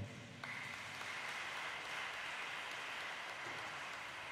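Steady broadband clapping from a church congregation during a Mass, dense and continuous throughout, fairly distant and moderate in level with no voices standing out.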